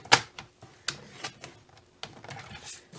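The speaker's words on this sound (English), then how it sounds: "So now I'm done with my paper trimmer." Paper trimmer slicing through cardstock while making a single-layer gift card holder, heard as a few close, sharp clicking cuts and taps spaced irregularly over a quiet background.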